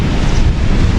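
Sea surf rolls onto a beach as a loud, broadband wash mixed with heavy wind buffeting close to the microphone, continuous through a brief moment with no speech.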